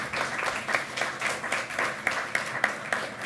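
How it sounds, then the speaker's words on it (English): Modest applause from a conference audience after a panel on material resilience, a short patter of clapping with several sharper claps, fairly quiet and steady throughout. "Big applause."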